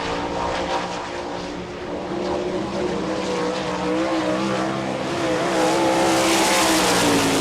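A World of Outlaws sprint car howls around a dirt oval at Rossburg, Ohio on a qualifying lap, its loud high-revving engine roaring continuously and rising as it passes near, without speech.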